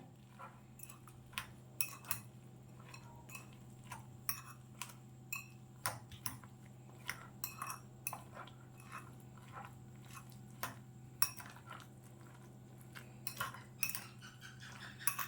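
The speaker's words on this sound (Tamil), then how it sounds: "ப்ரெட்டு ஃபுல்லாக அந்த எக்கில் வர மாதிரி மிக்ஸ் பண்ணிக்கோங்க." Bread pieces are mixed into beaten egg in a bowl, a quiet run of irregular clicks, taps and soft wet squishes close by over a low steady hum, with no talking.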